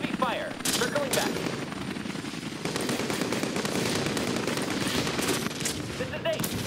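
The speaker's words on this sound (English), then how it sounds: "So a chopper's going down in the city." In the Call to Arms video game, a helicopter comes down under gunfire in a city: steady rotor roar, bursts of rapid automatic fire, and scattered shots, with voices talking over the battle.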